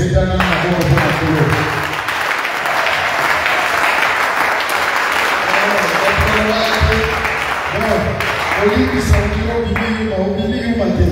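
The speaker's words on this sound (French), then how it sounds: "Acclamez d'abord pour nous." Church congregation applauding loudly and continuously, with voices mixed into the clapping throughout.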